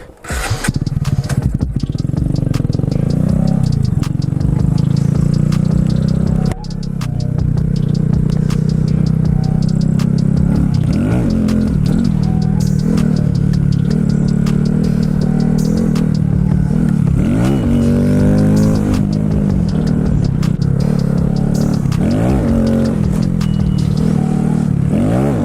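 Honda Grom motorcycle fitted with a stiffer clutch and oil pump mod, engine starting then running loud and close, with repeated revs rising and falling and a brief drop in throttle early on, no talk.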